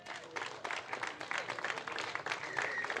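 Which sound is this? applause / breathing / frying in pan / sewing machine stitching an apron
applause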